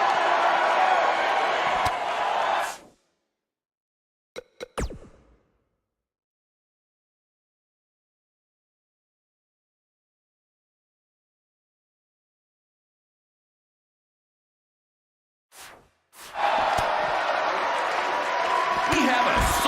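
Roaring wrestling arena crowd in WWE 2K19, loud and dense for the first few seconds, then cutting out into near silence broken by a brief clatter, before the crowd swell returns strongly at the end.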